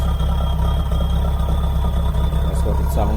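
A Mahindra Roxor engine idles through its exhaust close by, a steady low, even throb with a faint clatter on top and a brief light sound near the end.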